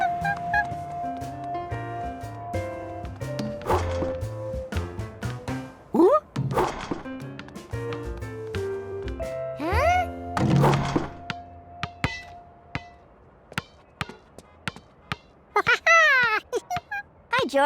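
Cartoon basketball thuds as a monkey and a friend shoot baskets, a series of repeated bouncy thunks against busy background music, with a few short vocal bits mixed in.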